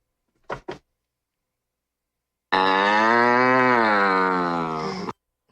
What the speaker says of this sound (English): Sounded like a damn cow.